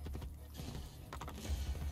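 A horse in the video game Assassin's Creed Brotherhood gallops with rapid, rhythmic clip-clopping hooves. A faint whinny sounds amid a thick, rumbling game soundscape.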